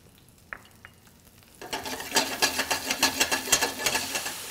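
Pearl onions and cremini mushrooms stir-frying in a hot pan: after a quiet start with a couple of small clicks, a loud sizzle bursts in and continues with rhythmic stirring scrapes pulsing roughly twice a second.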